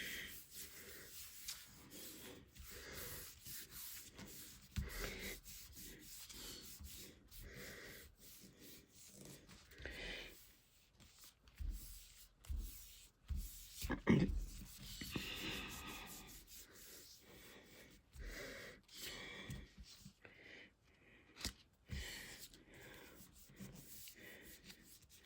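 Cardstock rubbed by hand over a Gelli plate inked with leaves, giving soft, continuous scuffing and brushing strokes in uneven bursts, close and moderately quiet, with no talking.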